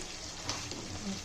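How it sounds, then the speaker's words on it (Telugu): Prawns and brinjal frying in a pan, a steady soft sizzle with faint stirring clicks throughout, close and fairly quiet. "ఇవి వేగనిద్దాం కొంచెం సేపు."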